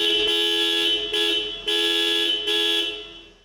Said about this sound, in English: This is what the horn sounds like in this car.